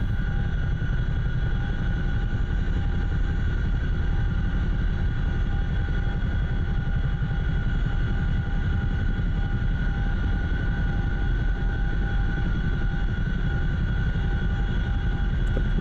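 CH-47F Chinook helicopter rotor blades in the DCS flight game churn the air in a continuous loud whirring drone with a steady pulsing texture, close and unbroken throughout, with no talk.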